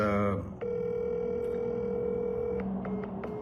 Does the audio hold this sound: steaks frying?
no